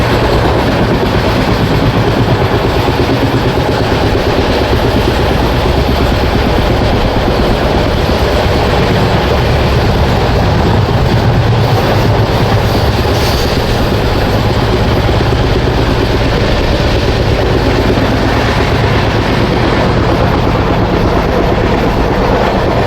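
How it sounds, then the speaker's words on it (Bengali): The Chambal Express runs on rails between hills and rounds a curve, a loud continuous roar of wheels and carriages with rumbling low end and faint rhythmic clatter throughout, heard from on board. "দুপাশে পাহাড়, মাঝখান দিয়ে ট্রেন চলছে। সুন্দর একটা কার্ভ নিচ্ছে ট্রেন।"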